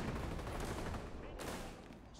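A shotgun fires in a shooter video game, producing a dense burst of gunfire heard fairly faint and muffled, a roughly continuous blast that fades at the end.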